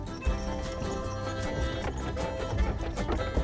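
Two driven horses clip-clop along in a busy, continuous mix of hoof beats, with a few sharper thuds standing out over a dense background of rumble and clatter.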